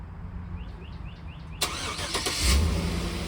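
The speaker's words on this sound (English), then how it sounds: "And you remote start it." A 2024 Chevrolet Suburban starts by remote start after a few soft lock chirps: a sharp crank catches and the engine settles into a steady, moderately loud idle with a low rumble, no talking.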